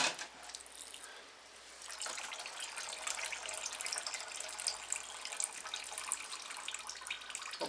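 Coolant pours and splashes steadily out of a 2006 Hummer H3 3.5-liter five-cylinder engine, a continuous close gushing stream with dripping, heard alone without talk.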